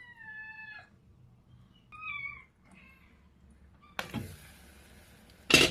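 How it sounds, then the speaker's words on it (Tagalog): A hungry cat meows three times in a row, clear and fairly close, then a sharp clatter and a knock follow near the end in an otherwise quiet room. "Naingay na yung pusa,"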